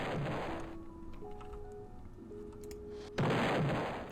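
Rockets explode in a Roblox game, with heavy booming blasts at the start and again near the end, separated by quieter game tones.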